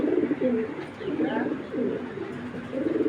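Pigeons at a Bangladeshi loft of racing and fancy breeds coo in low, throaty repeated phrases, a close bubbling pulse that rises and falls across the moment, with a few thin chirps above.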